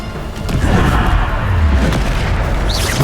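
A Bombarda blast spell explodes in the video game Hogwarts Legacy, giving a loud, deep booming burst that rumbles on for a few seconds without any speech.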